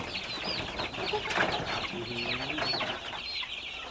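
Young Pradu Hang Dam chickens, about two weeks old, clucking and peeping on a village farm, overlapping soft calls and chirps at moderate distance, continuous with no talk.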